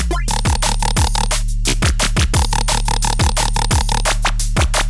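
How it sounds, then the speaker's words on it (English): A grotty jump-up drum and bass synth made in Serum bounces in a rapid rhythmic pattern of stabbing, wobbling notes over punchy drum hits, loud and continuous with no voices. "Today I'm gonna show you how to make a drum and bass sound like this."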